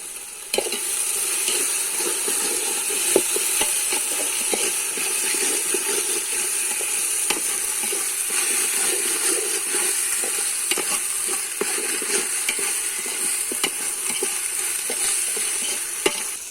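Ginger-garlic paste sizzling and frying in hot oil with steady crackle and occasional stirring scrapes, continuous and close, preparing quail biryani; no talk.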